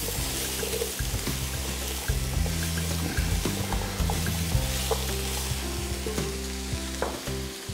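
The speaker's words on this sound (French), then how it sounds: "on a bien fait suer les carottes et les oignons" Carrots and onions sweating in a covered pan for beef braise, a steady soft sizzle with low clatter and stirring throughout, close and continuous without talk.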